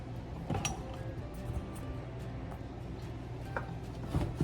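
Small metal spoon stirring homemade apple butter against a pot on a flat-top stove, faint scattered clinks and scrapes over a low steady hum, no talk.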